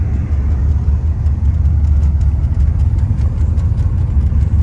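A Chevrolet C4 Corvette with its service engine soon light on drives along, its engine a steady, loud low rumble that holds unbroken throughout with no talking.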